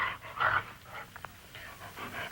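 Lassie, a collie, pants close by in rhythmic breathy huffs, steady and fairly loud, with no talking.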